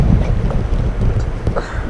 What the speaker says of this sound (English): at the same time it's getting windy